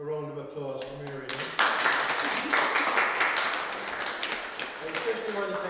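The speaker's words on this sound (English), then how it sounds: "So a round of applause for Mary." Audience applause at a photo exhibition in a library, a small room of people clapping that builds quickly after a spoken line and continues in a dense patter, thinning near the end as a voice returns.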